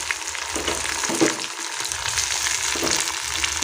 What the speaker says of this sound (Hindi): अब प्याज तो हल्का भुंजा के ओकर बाद डाल देते हो टमाटर।